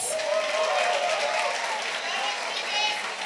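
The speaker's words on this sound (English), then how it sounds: "Clap for Milvet." Church congregation applauding and clapping together during a testimony service, a dense, steady wash of hand claps filling the whole stretch at close range, with voices mixed in underneath.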